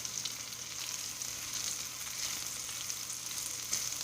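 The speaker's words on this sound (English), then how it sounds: "I am sauteing onions and garlic until they're a little brown" Onions and garlic sauté in a pan, browning with a steady, close hiss and crackle of frying that holds even throughout with no voices.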